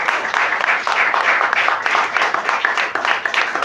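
Loud, dense applause from an audience at a comedy theatre festival, welcoming the chief judge onto the stage. It runs as a steady, unbroken wash of many hands clapping, close and full throughout.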